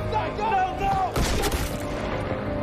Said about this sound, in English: when he tries to shoot Corey, the dad gets in the way.